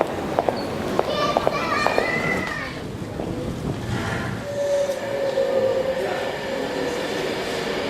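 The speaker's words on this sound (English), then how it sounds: "We've now just arrived at the terminus for the Skyrail" The Skyrail people mover train pulls into its terminus at the NEC with a rumbling, whirring roll, followed by a rising electric whine as it settles. A voice is heard partway through.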